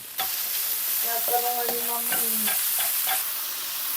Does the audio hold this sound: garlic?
yes